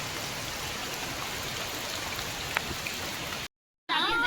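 Heavy rain pours in the Amarkantak forest as a dense, steady hiss of drops striking surfaces, close and constant, broken by a brief cut near the end.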